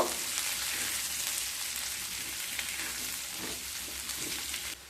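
Boiled, drained potatoes stirred into hot ghee in a pan, a steady soft sizzle and frying hiss running throughout with faint scraping of the stirring, close and even, no voices.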